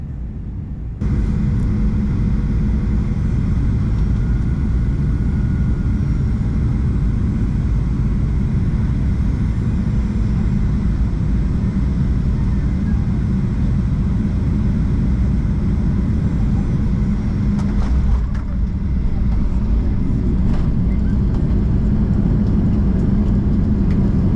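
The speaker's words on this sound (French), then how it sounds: "On va bientôt atterrir dans quelques minutes" Airliner cabin during descent and landing at Brussels, a steady loud broadband engine and airflow rumble throughout, briefly dipping then resuming near the end.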